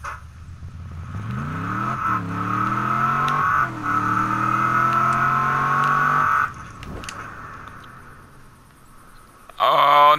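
Car engine in the video game Just Cause 3 as the vehicle drives off without its driver, revving up through several gear shifts with a steady whine, then dropping away briefly before surging loud again.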